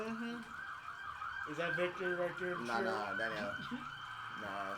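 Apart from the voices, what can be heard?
ambulance siren passing on the street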